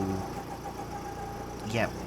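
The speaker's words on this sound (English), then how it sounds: "trying to keep the engine warm or get it warm" A racing go-kart engine runs at a steady mid-pitched drone during a kart race, then briefly rises in pitch near the end.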